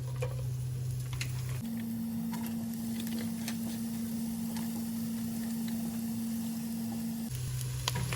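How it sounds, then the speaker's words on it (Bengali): Onions sizzle and fry in hot oil for chicken karahi, a steady, soft crackling hiss with a constant low hum running underneath. "তেল গরম হয়ে গেলে আমরা দিয়ে দিব আমাদের পেঁয়াজ"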